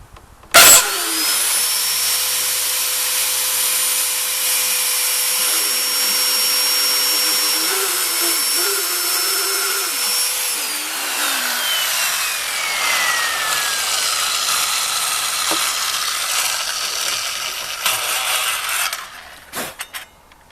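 A TECCPO circular saw with laser guide spins up sharply and cuts at a loud, steady whine for about ten seconds, then the pitch drops as it finishes and winds down, followed by a few clunks.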